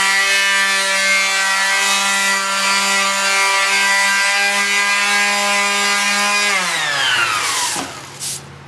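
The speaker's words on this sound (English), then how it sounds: "so I'm going to use the sander here." A power sander works drywall joint compound with a loud, steady motor whine that holds, then winds down as the tool stops near the end; no voices.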